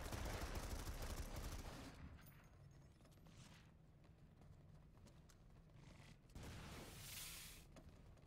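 Gunfire in a tactical team shooter video game during a competitive match, heard as faint, distant bursts of rattling shots at the start and again near the end over a low background rumble.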